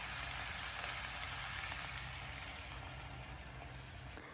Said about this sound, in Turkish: Arkasından fasulyeleri haşladığımız suyun bir su bardağı kadarını tencereye ilave edelim.